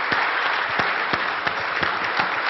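A poker audience on its feet for Doyle Brunson keeps up thick, unbroken clapping, close and loud, with scattered louder individual claps standing out over the steady roar.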